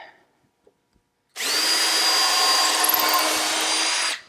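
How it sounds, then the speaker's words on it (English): Quiet at first with a few faint clicks, then a power drill pre-drilling wood whines loudly and steadily for about three seconds before stopping abruptly. "And again, I like to pre-drill."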